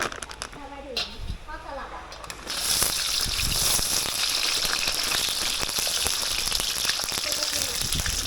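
Crab sticks frying in hot oil in a home kitchen, a loud steady sizzle rising sharply partway through and holding constant, with people talking over it early on.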